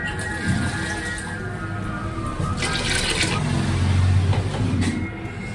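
Water poured into a biryani marinade, a steady liquid trickle and splash with a fuller gush partway through, continuing to the end.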